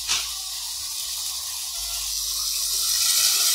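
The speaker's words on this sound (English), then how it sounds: "add a bit of water just to sort of help it along" Water pours in a steady hissing stream into a hot pan of softening onions, rising slightly in loudness toward the end, with no talk over it.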